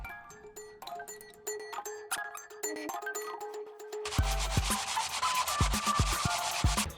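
A 98cc Rascal minibike engine part is sanded flat by hand with coarse 60-grit sandpaper. After a few seconds of faint ringing tones, loud, close, rapid back-and-forth scratchy strokes follow.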